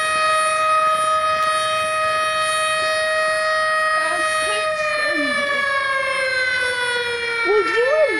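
A tornado siren wails steadily across the whole stretch, loud and sustained, with its rising and falling tone holding over faint voices in the background.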